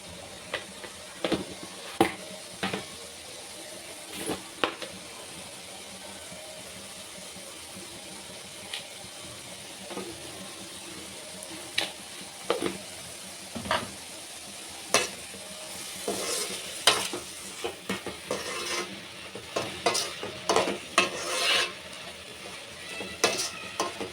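Amaranth leaves fry with turmeric and salt in a pan, a low steady sizzle under frequent scraping and clicking stirs from a spatula that grow busier toward the end.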